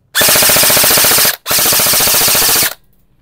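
A gas-powered airsoft gun running on HFC gas fires two loud, rapid full-auto bursts at close range, each lasting over a second, separated by a brief pause, then silence.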